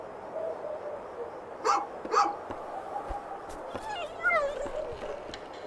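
A dog in A Juggler's Tale gives two sharp barks close together, followed by whimpering yips, over a quiet ambient backdrop with a narrator's voice.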